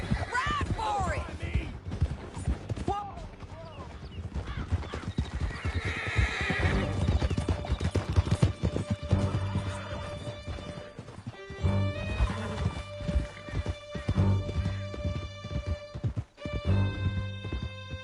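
Horses galloping in Red Dead Redemption 2, rapid close hoofbeats throughout with whinnies and neighs near the start, under shouted voices and dramatic music.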